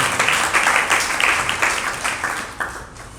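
An audience claps together during a Hindu religious sermon, a dense burst of applause that gradually thins and fades, with a few scattered claps near the end and no speech over it.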